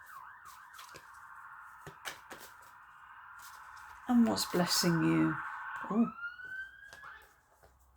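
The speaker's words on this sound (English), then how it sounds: "can you hear the sirens out there?" Police sirens wailing outside, a cycling siren tone that runs steadily then swells louder with short yelping bursts before fading, heard behind a person speaking.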